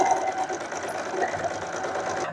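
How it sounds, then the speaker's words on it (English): Sewing machine running a straight stitch with a half-inch seam allowance as it joins fabric doll arms and legs, a continuous close mechanical whir with a rapid, even needle rhythm that stops abruptly at the end. "I'm going to sew them with a straight stitch with a 1/2 inch of seam allowance while sewing."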